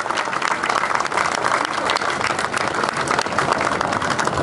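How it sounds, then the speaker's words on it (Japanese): An audience claps loudly and steadily in dense, continuous applause at a Maritime Self-Defense Force event during the Yokohama port opening festival, sustained at even volume from start to finish. "皆様、盛大な拍手をお願いいたします。"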